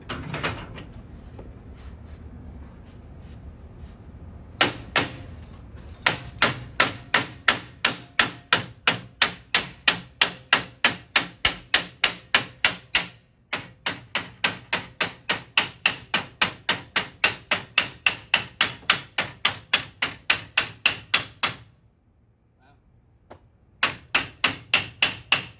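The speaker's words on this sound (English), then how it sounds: "Now we got to do that thing with the beating of the hammer and the slamming and the loud noises." Loud, close hammer blows pound rapidly on metal parts of a broken garage door during a rebuild, dozens of sharp evenly spaced strikes in long bursts broken by brief pauses, with no talking.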